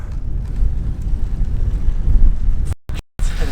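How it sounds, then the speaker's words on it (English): Wind buffeting a microphone outdoors during cycling training, a loud, rough, rumbling roar that fills the clip and drops out briefly twice near the end. "It's windy."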